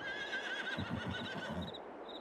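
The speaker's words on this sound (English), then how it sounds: "We have another 16 horses here" Horses whinny and neigh at a farm in the video game Farming Simulator 22, with a shrill drawn-out call followed by lower fluttering snorts, clear and fairly close.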